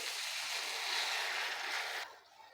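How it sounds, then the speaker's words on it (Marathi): A steady pour of water rushes into a pan of sprouted moth beans cooking with onion and spices, bright and continuous for about two seconds before cutting off abruptly. "तर आता आपण पाणी घालू थोडंसं"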